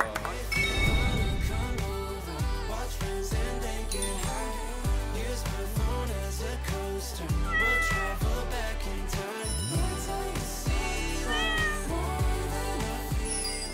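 Three cats meow repeatedly in rising and falling cries over a busy, noisy background in an old house, several calls overlapping throughout.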